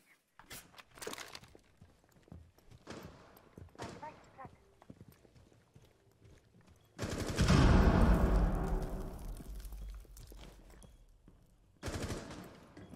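Gunfire in a Rainbow Six Siege match, a loud close burst of shots midway that decays, with another short burst near the end, amid quieter footsteps and players talking.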